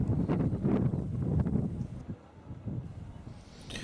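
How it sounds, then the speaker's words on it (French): Gusty wind buffeting the microphone in uneven bursts, strong at first, then easing before picking up again. "c'est dur de rester stable avec le vent qui fait là"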